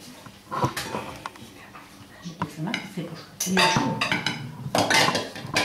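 A salted grated-potato galette mixture is stirred in a bowl, giving steady scraping and clinking of a utensil against the dish, close and moderately loud, with a little background voice.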